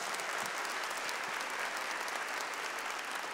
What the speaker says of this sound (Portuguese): Aplauda isso mais uma vez.